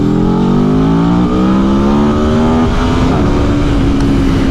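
A 2021 Aprilia Tuono V4 1100 Factory motorcycle rides along a dual carriageway. The engine drone is loud and continuous and climbs steadily in pitch as the bike pulls through a gear, then shifts and climbs again.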